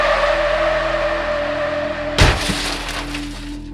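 A car crash starts with a loud tire skid and engine whine and ends in a sudden hard impact with shattering glass, followed by brief scattered debris.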